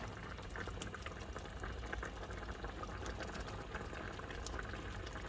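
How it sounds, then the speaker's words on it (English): A pot of Panang curry mixture at a rolling boil gives off steady, soft bubbling and a gentle simmering hiss, faint and close, with no one talking. "So as you can see that our mixture is coming to a nice boil."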